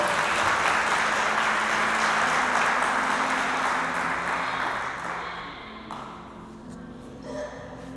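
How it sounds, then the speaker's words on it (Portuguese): A church congregation applauding loudly, a dense roar of many clapping hands that holds steady, then gradually thins and fades toward the end. "Vamos aplaudir Jesus bem forte."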